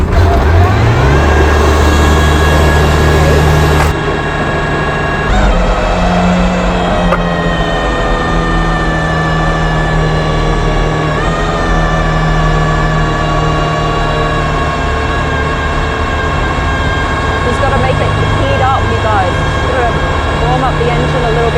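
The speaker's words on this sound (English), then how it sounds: "The engine a little bit before we go." An Aston Martin supercar idles at an F1 track, a steady deep engine drone with strong low harmonics that shifts pitch slightly around four seconds and then holds a constant loud hum throughout.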